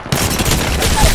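A short, loud burst of rapid gunfire in the battle royale game Apex Legends, close and punchy, with shots blurring together into one continuous volley.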